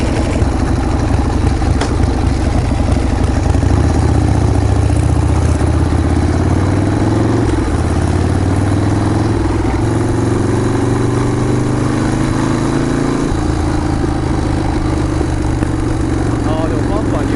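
A Harley-Davidson Sportster engine runs after an HSR carburetor adjustment, a loud close rumbling idle with uneven revs and occasional pops, while people talk over it.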